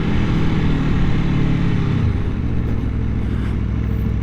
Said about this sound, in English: Can y'all hear that? The exhaust.